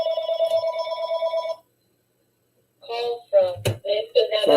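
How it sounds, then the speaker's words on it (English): A telephone rings in an office during an interview, its warbling electronic ring repeating for about a second and a half, then stopping; after a pause, people speak over some handling noise. "Sorry about that phone."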